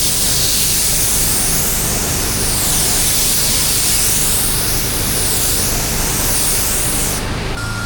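A powered spray gun with an internal fan lays a paint coat over primer on a car, giving a loud, continuous hissing rush with a slowly sweeping tone throughout and no talk.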